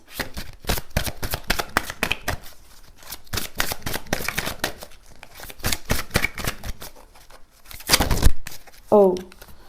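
A deck of cards is shuffled for a card reading: a rapid, close run of crisp riffles and flicks that come in bursts, with a short voice near the end.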